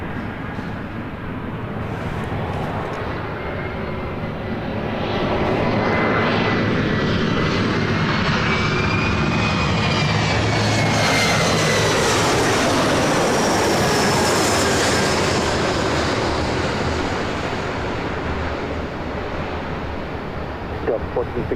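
An airliner rolls on the runway at LAX, a steady broad jet roar that swells after a few seconds and holds loud for the rest of the time, with a faint rising whine and no one speaking.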